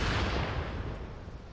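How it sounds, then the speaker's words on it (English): A sticky bomb detonating in the video game Tom Clancy's The Division, heard as a heavy, booming explosion with a rumbling tail that slowly fades. "As you see, it's pretty powerful explosion."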